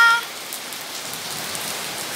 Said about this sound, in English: it's raining in Kerala.